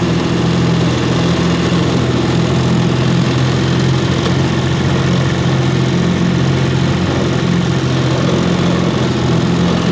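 A 1953 Elgin 5.5hp outboard motor runs steadily and loudly, a constant throbbing drone with no pauses and no voices.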